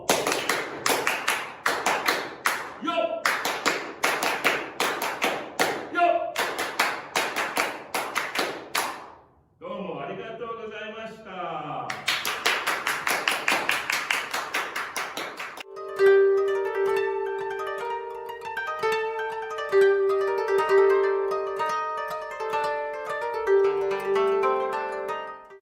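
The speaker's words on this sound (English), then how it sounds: "We'll do the Sambonjime. 3 sets of claps." Ceremonial Japanese hand claps of the Sambonjime ring out in three sets of rhythmic bursts at a moon-viewing gathering, crisp and close, broken by a voice calling between sets, then giving way to music.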